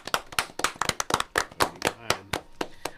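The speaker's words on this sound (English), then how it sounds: "Can I get a round of applause" A small group claps in quick, uneven bursts for a few seconds, close and fairly loud.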